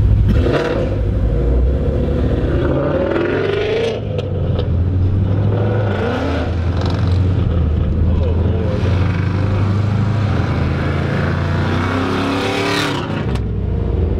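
A car cruises around Ocean City during cruise week in light rain, its engine holding a steady, loud drone with road noise and faint voices inside the car throughout.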